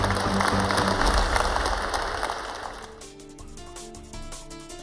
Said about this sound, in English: give yours a round of applause